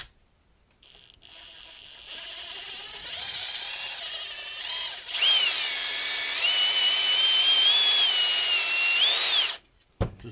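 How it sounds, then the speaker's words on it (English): A power drill boring out a headlight wire connector: a motor whine that revs up in stages, then holds a loud, slightly wavering high pitch for several seconds before stopping abruptly, close by with no talk. "drill this out"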